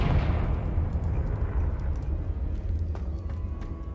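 A Confringo fire spell bursts in a Hogwarts Legacy wizard duel, a loud fiery explosion at the start that rolls into sustained crackling rumble, with sharp clicks and impacts near the end.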